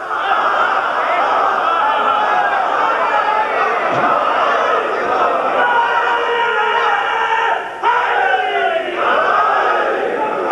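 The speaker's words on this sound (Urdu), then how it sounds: "بھائی نعرے کم لگائے" A dense crowd at a Shia religious majlis raises loud, overlapping chanted slogans in a sustained wall of voices, with brief surges and a short dip near the end.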